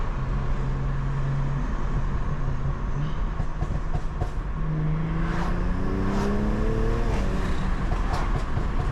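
A 2020 BMW M340i accelerates hard, its engine note climbing through rising pitches under a loud, steady road and wind roar inside the cabin.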